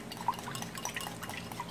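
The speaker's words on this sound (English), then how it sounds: "Give our egg a little milk" Milk poured into a beaten egg in a bowl while making cornbread waffle batter, a short soft trickle with a few faint drips, close and quiet.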